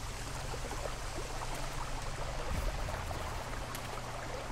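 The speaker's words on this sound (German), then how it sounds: "Da ist der Wasserfall." Steady rushing of a waterfall in the video game Risen, a continuous broadband wash of falling water heard alone at moderate level with no speech.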